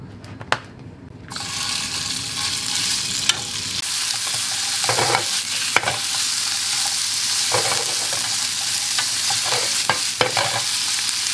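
Pork frying in a pan, a steady bright sizzle throughout with occasional sharp clicks and scrapes of stirring, close and loud with no talk.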